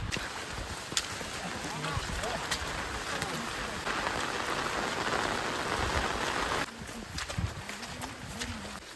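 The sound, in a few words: rain falling in dense forest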